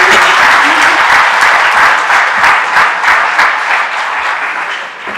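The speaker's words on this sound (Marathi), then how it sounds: "सर्वांनी एकदा टाळ्या वाजवायच्या जोरात." Loud, sustained applause from a ceremony audience at a martyrs' honour event, dense clapping filling the whole stretch and easing slightly toward the end.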